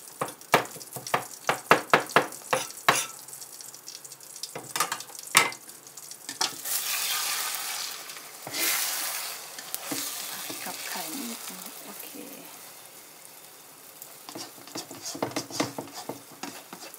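Beaten egg for an omelette frying in a pan, with a broad hiss that swells midway, surrounded by many sharp clicks and taps of a utensil against the pan; no talk.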